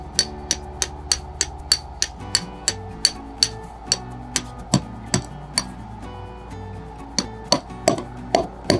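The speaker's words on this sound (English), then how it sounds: "you can just use a hammer, hammer it into the ground." Steady, evenly spaced hammer blows drive ground stakes for an inflatable arch, about two per second, sharp metallic taps with a faint scraping undertone.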